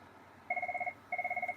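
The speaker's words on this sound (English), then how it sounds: "the phone's ringing up" A telephone rings in two short bursts of rapid electronic warbling tones separated by a brief pause, heard clearly in a quiet room.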